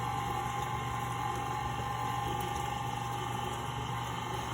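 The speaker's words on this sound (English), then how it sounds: "I'm gonna pour my milk in nice and slow." Milk poured slowly into cake batter for a rum cake in a home kitchen, a steady, soft liquid stream running continuously and evenly throughout, fairly close, with no talking.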